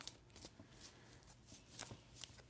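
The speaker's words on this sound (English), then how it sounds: "I'm even shuffling the cards different." Tarot cards are shuffled by hand in quick, soft riffling bursts, each a brief papery rush repeated several times at close range.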